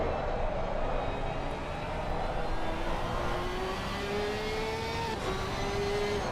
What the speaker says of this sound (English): we're going to ride on board with this one because I just want to listen to the Porsche